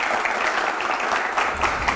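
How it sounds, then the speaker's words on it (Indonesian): Steady applause from a seated audience at an Indonesian talk show or Q&A event, dense continuous clapping lasting the whole stretch with no voices over it. "Tepuk tangan dulu."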